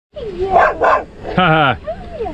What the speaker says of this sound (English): The dogs came back again this morning for breakfast.